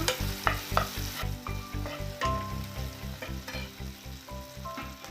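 Tomato frying in a pan until soft for a Maharashtrian chakolya (dal-phal) dish, with a steady close sizzle broken by rhythmic stirring scrapes throughout, no voices.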